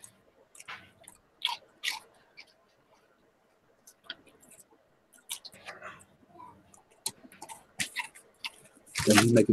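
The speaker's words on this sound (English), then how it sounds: "He's been chewing on dead deer out there, dog, and it is rotten." A dog chews and crunches on a rotten dead deer outdoors in close, irregular bursts of gnawing separated by quiet gaps, ending in a louder noisy burst.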